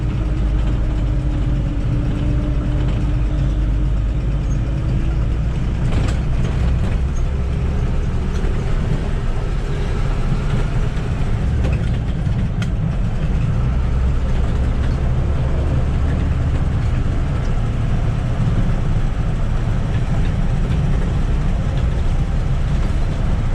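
A car fitted with a BF-161 rural vacuum accelerator capsule drives along, heard from inside as a loud, steady engine and road drone with low rumble that continues unbroken, with no speech.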